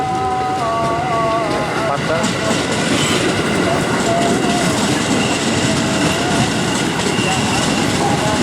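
KRL commuter trains run on the double-double track by the former Jatinegara depot, a loud continuous rumble of wheels and rail clatter with horn blasts near the start and more horn calls sounding over the din.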